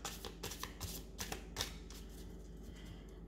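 Playing cards being shuffled, a run of quick crisp riffling flutters and soft slaps close by, fairly quiet and with no talk.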